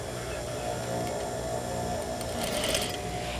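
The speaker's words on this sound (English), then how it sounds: "I'm going to continue sewing this seam at 1/2 inch." A sewing machine stitches a half-inch seam in a continuous mechanical whir, with its rapid needle ticking steady throughout and a brief brighter rattle near the end.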